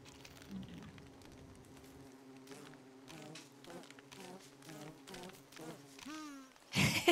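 Bees buzzing in the video game Don't Starve Together, a thin hum with repeated short buzzing bursts and rising whines, ending in a louder burst of noise.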